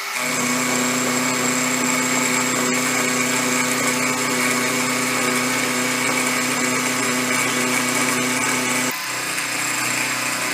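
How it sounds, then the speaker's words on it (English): A milling machine takes a final climb-milling cleanup pass on an axle for a Ford Model R, a steady high whine with constant tonal harmonics that holds for about nine seconds, then dips slightly as the cut changes. "we'll do a final cleanup pass using climb milling, which will give us a better surface finish"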